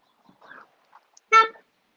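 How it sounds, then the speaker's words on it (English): A single short car horn honk, fairly faint and distant, preceded by a few soft indistinct sounds in an otherwise quiet background. "He had somebody honking."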